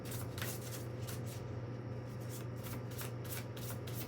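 Tarot cards being shuffled by hand, a soft rhythmic riffling and rubbing close by, repeating in quick even strokes over a quiet background hum.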